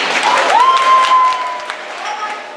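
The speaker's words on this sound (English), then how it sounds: "I would also like to give a huge round of applause for our magical creature permanent forest, Dobby" A camp crowd gives a sustained round of applause, dense and fairly close, with a whistle or cheer rising above it early on before the clapping gradually tapers.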